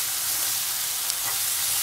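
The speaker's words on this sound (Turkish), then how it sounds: "Salçam kavrulduğu için de 2 adet doğranmış domates" Diced tomatoes sizzle in roasted tomato paste for a chicken arrabbiata sauce, giving a loud, steady frying hiss close to the pan with no talking.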